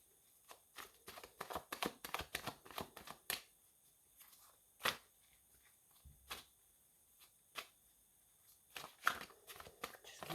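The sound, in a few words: shuffling tarot cards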